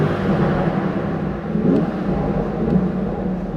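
A Lamborghini Urus SE with a hybrid V8 revs in an underground garage, a loud, sustained rumble with rising engine surges that echo off the concrete, and no talking.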